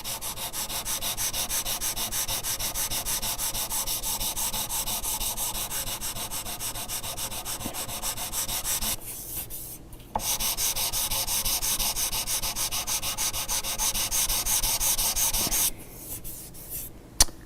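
Hand sanding of a guitar's finish makes a steady, close scratchy rubbing that runs continuously, with two short pauses before it resumes.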